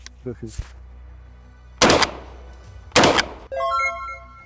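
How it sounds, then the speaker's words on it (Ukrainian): Two sharp, loud pump shotgun blasts about a second apart, each with a quick mechanical clack of the forend being racked, then a short electronic tone sequence. "Вам потрібно пересмикувати цівку одразу під час пострілу, використовуючи віддачу."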